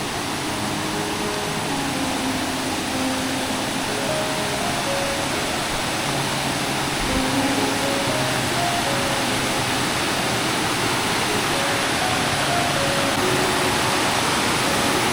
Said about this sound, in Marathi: ही आपली नदी